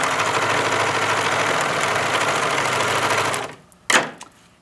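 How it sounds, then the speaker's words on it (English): A serger overlocking the edge of boxer-short fabric runs as a steady, close mechanical whir for over three seconds, then stops, followed by a brief clunk. "Make sure you're serging straight."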